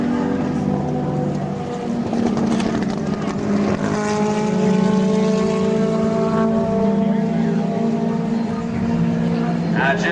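Twin-engine C-47 propeller transport passing over an airshow, its droning engine tones steady and loud, shifting slightly in pitch as it goes by, with an announcer talking over the sound.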